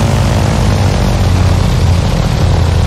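A propeller aircraft taxis in X-Plane 11 near a fuel stop, its engine a loud, steady low drone that holds constant and close with no talk.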